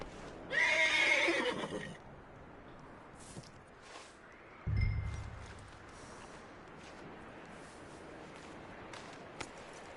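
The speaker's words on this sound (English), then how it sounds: "That looks like a decent horse." A horse in Red Dead Redemption 2 gives a loud, close whinny, followed a few seconds later by a shorter low snort or nicker over quiet outdoor ambience.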